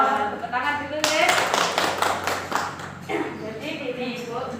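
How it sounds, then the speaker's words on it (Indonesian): A group of mothers at a village health post session clap together in a short burst of applause under a voice. "Tepuk tangan dulu ya."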